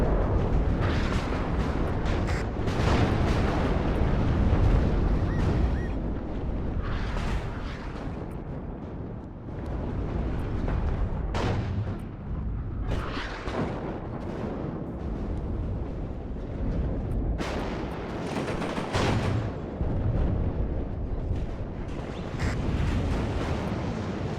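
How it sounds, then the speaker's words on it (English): Dense, continuous battle noise from the WARNO real-time strategy game: repeated explosions and artillery fire booming over a constant roar for the whole stretch, loud throughout with no speech. "All those explosions."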